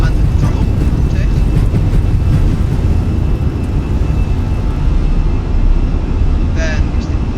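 Aircraft engines roar continuously and loudly during a takeoff roll, a dense low rumble heard from inside the cockpit.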